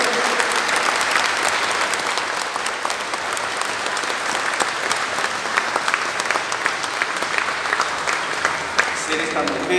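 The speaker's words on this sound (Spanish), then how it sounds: "Aquí le damos fuertes aplausos a Rosa de Lima" Steady, dense applause fills a church during a Mass for the feast of Saint Rose of Lima, the congregation clapping hard and continuously with a few voices mixed in.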